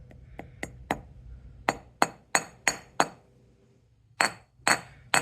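Hammer striking an unfamiliar material, about a dozen sharp, ringing metallic hits spaced irregularly, some in quick runs and some after pauses, close and clear with no talking.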